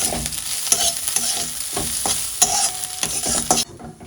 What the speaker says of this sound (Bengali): এবার একটু ঘি দিয়ে দেবো তারপরে নেড়ে চেড়ে এটা নামিয়ে নেব